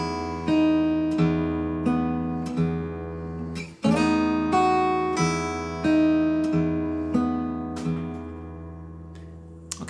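Two bars of fingerstyle acoustic guitar ring out close and clear. Plucked bass notes alternate with higher strings in a steady pattern, and the notes sustain and decay, with no talking.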